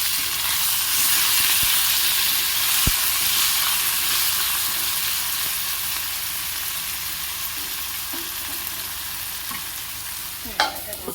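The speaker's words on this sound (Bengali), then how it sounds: "যুক্ত হয়ে পারি ভাজা ভাজা বেরোতে দিচ্ছি" Tomatoes with a little salt frying in a pan, a loud, continuous hiss and sizzle with a few sharp stirring knocks, the sizzle easing slightly toward the end.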